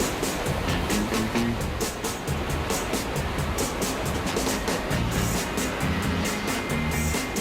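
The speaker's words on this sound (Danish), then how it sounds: "Vandet her fosser ud med 50 km i timen." Seawater blasts out of a Flowrider wave machine on a cruise ship in a steady, loud, unbroken roar of rushing water, with faint rhythmic knocks behind it and no voices.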